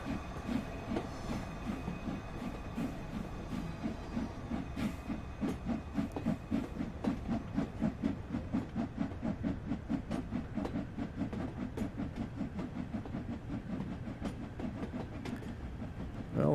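Steam locomotive in Train Sim World 2 pulling away from Liverpool Lime Street on a Spirit of Steam rail tour, with steady rhythmic chuffing and clattering wheels that continue evenly throughout, close and moderately loud with a faint hiss.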